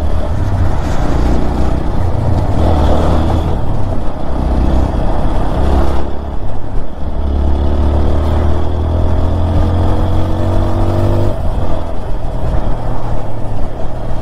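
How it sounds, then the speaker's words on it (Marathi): Road traffic rumbles around a rider on a TVS Apache motorcycle, with steady engine drone, passing vehicles and wind noise close and loud throughout, no talk. "एवढं कसं का ट्रॅफिक झालं आज काय."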